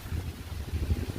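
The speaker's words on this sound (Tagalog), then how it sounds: "Napakalakas ng hangin ngayong hapon na ito." Strong afternoon wind buffets the microphone in farm fields in rural Nueva Ecija, a continuous low rumble rising and falling in gusts, loud and close.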